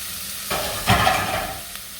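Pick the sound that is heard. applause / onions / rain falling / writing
onions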